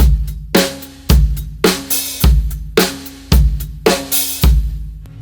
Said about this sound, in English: What you actually hear is the open hi-hat on the and of 4.